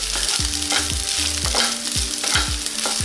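Vada and egg upma cook on a medium flame, sizzling steadily while a spoon scrapes and stirs the pan in a run of repeated strokes, close and without talk.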